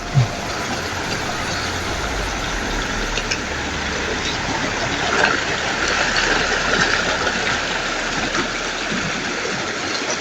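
Broadband rushing flow of a shallow stream, a steady close wash of water that stays continuous and fairly loud throughout, with no voices.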